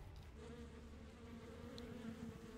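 A swarm of bees buzzes as a sound effect in the video game Smite, a faint, dense droning hum that wavers slightly for a few seconds with no voices over it.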